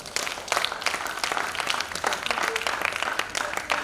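Audience at a summit claps for teachers, a dense, steady patter of many hands filling the room at moderate level, with faint voices mixed in.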